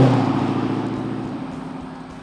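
A 2015 Dodge Challenger SRT Hellcat roars through its active exhaust, a loud, deep, rumbling engine tone close by that eases gradually over a couple of seconds.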